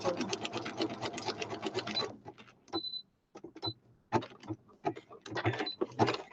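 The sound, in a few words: sewing machine stitching a zigzag line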